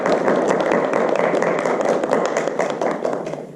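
A theater audience applauds after a student-written stage show, with dense, even clapping throughout that tapers slightly at the end.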